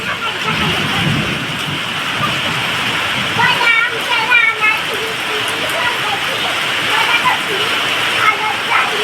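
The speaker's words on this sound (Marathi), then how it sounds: "खूप पाऊस चालू आहे. विजांच्या कडकडाट सहित पाऊस चालू आहे" Heavy monsoon rain pours loudly and steadily, with thunder rumbling low beneath the dense hiss.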